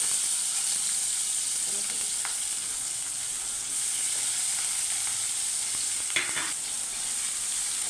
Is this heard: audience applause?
no